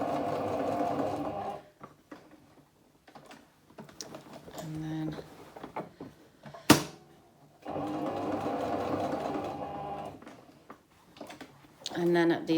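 Sewing machine stitching diagonally across a tote bag handle, running in two steady bursts of rapid mechanical whirring with a pause between, a sharp click in the gap and a voice talking quietly during the stop.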